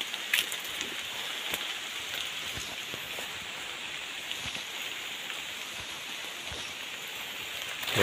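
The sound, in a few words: rain falling in a mountain ginger field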